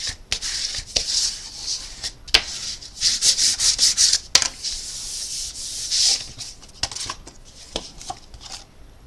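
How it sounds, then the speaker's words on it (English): A bone folder or hand rubs firmly over glued paper on a box, making rapid dry scraping strokes in bursts, close and fairly loud. "Burnish, spread that glue around."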